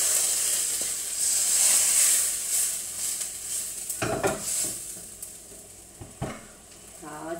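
Curry aromatics sizzle steadily while being stir-fried in a wok for curry chicken, a loud continuous hiss with occasional spatula scrapes and clinks against the pan.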